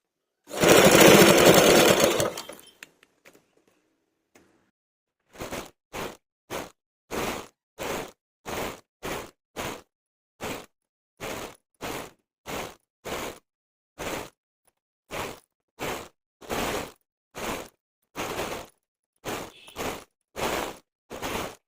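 A sewing machine stitches piping onto a kalamkari blouse in a long run of short, evenly spaced mechanical bursts, close and clear, after a brief louder noise and a pause.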